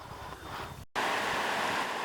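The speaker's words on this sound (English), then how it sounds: "Nice falls between Glen and Hansen." A waterfall on a chute between two lakes in the Canadian boreal wilderness pours with a steady, close, rushing roar, broken by one short gap.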